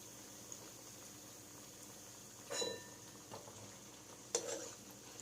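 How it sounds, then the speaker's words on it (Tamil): Adirampattinam-style seeni paniyaram sweet dumplings fry in oil with a faint, steady bubbling sizzle, broken by a couple of soft utensil clatters. "பணியாரம் நமக்கு பொரிஞ்சிருச்சு, எடுத்துடலாம்"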